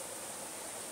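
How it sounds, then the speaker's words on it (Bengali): Water from the Havelock waterfall in the Andaman Islands rushes steadily as a broad, even hiss with no breaks, fairly faint and with no voices over it. "সামনে দেখতেই পাচ্ছ যে কিভাবে ঝর্ণার জল গড়িয়ে যাচ্ছে"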